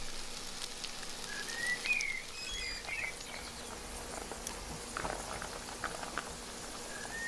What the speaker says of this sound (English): In with the spuds. What you got to do, just brown these off for about 10 minutes.